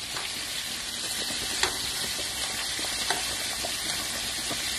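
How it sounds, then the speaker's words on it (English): Shrimp sizzle steadily in a hot pan for shrimp scampi, a dense crackling hiss with a few clinks of stirring, close and continuous, with no talking. "Now the shrimp, make sure to not cook it too much."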